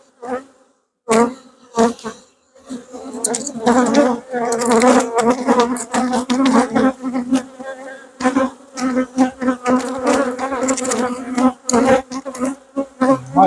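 Dense, steady buzzing of many honey bees close by at an open hive, a continuous droning hum that swells and dips with brief near-silent gaps.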